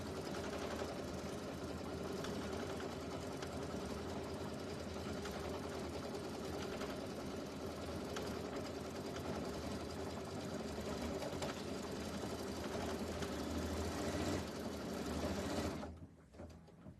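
A sewing machine runs steadily, stitching raw edge appliqué onto a citrus and sunshine pillow, a continuous close mechanical whir lasting about fifteen seconds before stopping abruptly.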